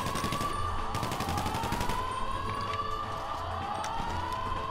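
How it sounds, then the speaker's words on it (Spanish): A police siren wails continuously in the GTA V Online video game, its rising and falling tone loud amid dense rapid gunfire that persists throughout. "Me va a volver loco la bocina, la vaina esa, la sirena."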